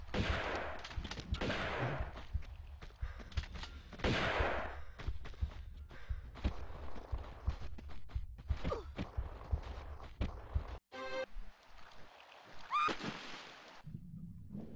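Gunfire from shotgun-wielding enemies in the video game The Hidden Dagger, with repeated blasts and shots packed densely through most of the stretch over loud game noise, then a brief quieter tail.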